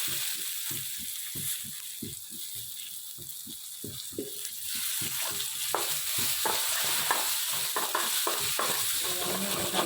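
Curry leaves tossed into a hot pan and stirred, giving a rapid rhythmic series of spatula scrapes and knocks over a steady sizzle that swells louder midway, close and without talk.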